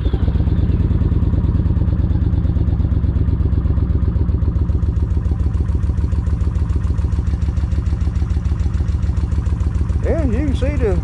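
A Vulcan 1600 motorcycle engine idles steadily up close with a rhythmic, pulsing thump and mechanical clatter that holds even for the whole stretch. A brief squeal rises near the end.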